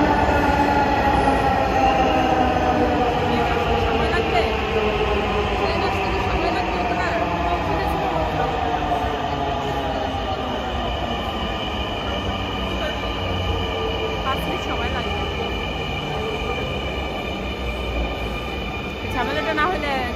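A Dhaka metro rail train arrives at a station with a loud, steady rumble, whining tones that slowly fall and some wheel squeal, while people talk nearby.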